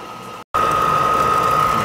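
A 90+ gas furnace condensate pump runs with a steady hum, a sharp tonal whine sitting over a constant mechanical rumble, briefly cut out for a split second before resuming at full, even loudness.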